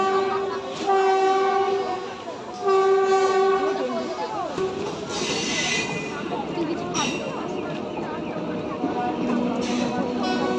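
A train rolls into Krishnanagar station with a couple of long horn blasts, then steady rumbling and clattering wheels as it slows. Voices are faintly audible.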